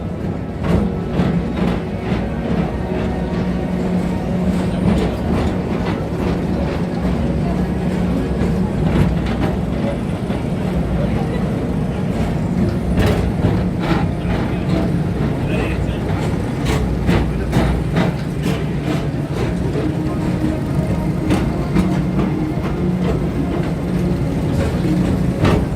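A Walt Disney World theme park ride vehicle rolls steadily along its track with a continuous low rumble and faint clicks, while recorded spoken announcements and crowd voices carry over the top.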